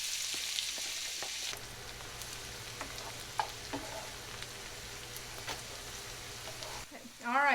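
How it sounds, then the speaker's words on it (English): Onions and mushrooms sauté in bacon grease in a pan, giving a steady, quiet sizzle with occasional light clicks from stirring. "we'll start sauteing our onions and mushrooms"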